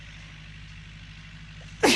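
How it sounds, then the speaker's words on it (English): A single sharp sneeze bursts out at the very end over a low, steady background hum, loud and close. "Oh no, I'm gonna sneeze."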